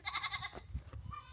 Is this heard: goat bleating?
yes